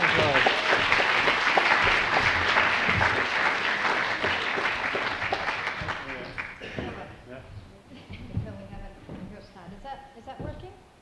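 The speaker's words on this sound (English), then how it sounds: "give them a round of applause." Audience applause at the CCF Gathering 2019 climate heroes event, a loud, dense sustained clapping that fades after about six seconds, leaving scattered claps and a voice talking.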